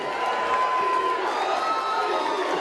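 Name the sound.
wrestling crowd cheering wildly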